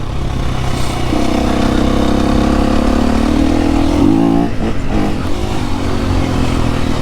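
A new 2025 KTM EXC-F dirt bike engine revs hard while riding on snow and ice, a loud close buzzing drone that climbs in pitch, then drops and picks up again through the gears.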